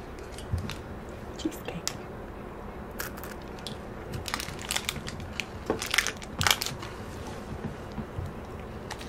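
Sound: biting and chewing a Japanese white chocolate snack

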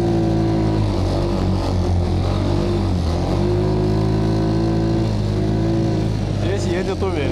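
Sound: Ataki WD 150 snowmobile engine driving

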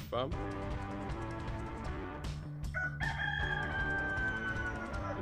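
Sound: chicken

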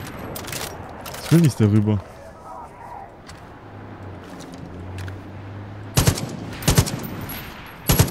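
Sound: gunfire in video game GoldenEye 007 mod

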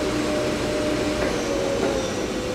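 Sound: Hyundai-WIA L400C CNC turning center spindle at 1200 RPM

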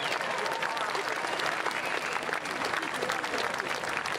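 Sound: crowd applause at a jazz festival

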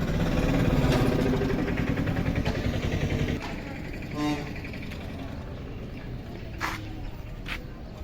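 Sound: vehicle engine, vehicle going from Madurantakam to Thirukazhukundram

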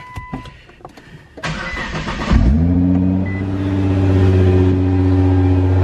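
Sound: Nissan GT-R R35 engine starting, Armytrix straight pipe exhaust

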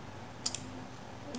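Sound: mouse click

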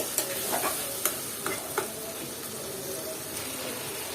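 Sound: vegetables stir-fried and stirred in a pan

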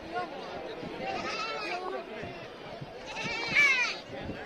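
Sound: sheep bleating at market

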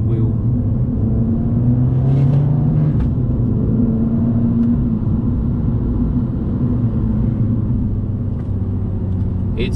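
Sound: Fiat Abarth 695 Tributo Ferrari engine accelerating in manual mode

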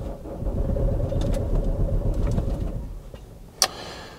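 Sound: Vauxhall Antara diesel engine cranking, failing to start

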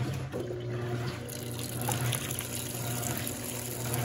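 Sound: water filling Electrolux Turbo Flex washing machine

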